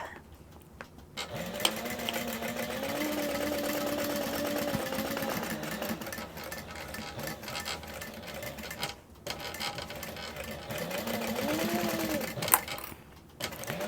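Sewing machine stitching around the lined pieces of a mini backpack, a steady mechanical whir running for long stretches with brief pauses and speed changes, close and fairly loud.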